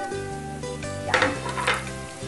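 Onion, ginger and garlic stir-fry in a pan for a Filipino tinola, giving a steady close sizzle with scraping stirs under a constant hum and no talking.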